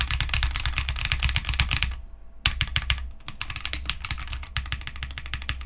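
Fast, steady clacking of keys on a custom 65% mechanical keyboard, typed up close in dense bursts with a brief pause midway, no voices.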